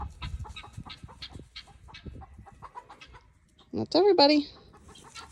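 A loud, harsh guinea fowl call bursts out near the end on a farm, after quieter rustling and a brief spoken phrase, with squawking, rasping tones.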